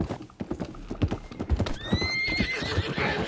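A horse in Red Dead Redemption 2 clip-clops along in a rhythmic run of close hoof beats, with a brief whinny midway and light talk underneath.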